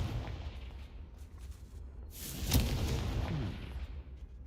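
A Confringo blasting spell explodes in Hogwarts Legacy, a single burst with a sharp crack and short rumbling decay, moderately loud amid low background ambience.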